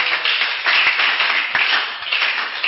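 A church congregation claps along in a steady, dense rhythm, loud and close, with a few voices faintly mixed in.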